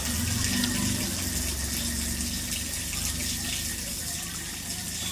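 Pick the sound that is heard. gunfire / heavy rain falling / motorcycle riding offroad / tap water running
tap water running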